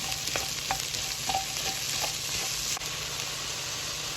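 Onions and leeks soften in a hot pan for a venison casserole, a steady close sizzle with light clicks and scrapes of a stirring utensil scattered through it.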